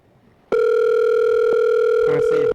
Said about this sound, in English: Oh, now it's calling. Now it's ringing.